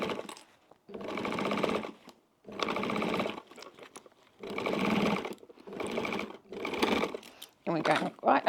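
A 70-year-old Pfaff sewing machine runs a seam in five or six bursts of steady, fairly loud motor whirring and needle chatter, with short pauses between runs.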